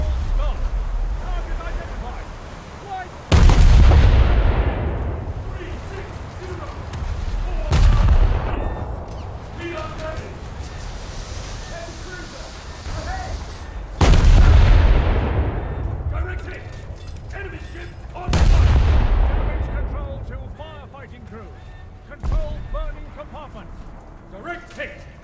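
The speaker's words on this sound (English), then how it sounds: "I'm about to unleash my broadside on it" Warship broadside cannon fire in a naval combat game: five heavy booming salvos spaced several seconds apart, each a loud deep blast with a long rolling decay, over wind and water ambience with talk in between.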